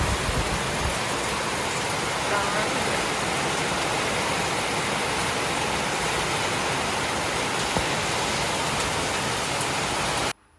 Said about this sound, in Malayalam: നല്ല മഴ തുടങ്ങിയിട്ടാണ്